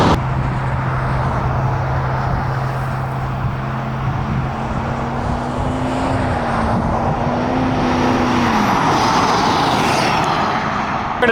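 A Ford 6.4L Powerstroke diesel pickup accelerates hard from 0 to 60 mph with an added intake box, its engine a steady, loud drone whose pitch climbs gradually and then drops at a shift near the end, heard alone without talk.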